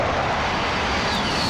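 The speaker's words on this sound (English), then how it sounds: "Friendly precision airstrike inbound." A jet aircraft roars steadily overhead during a precision airstrike in Call of Duty: Modern Warfare, a dense, continuous rushing drone with a faint rising whine near the end.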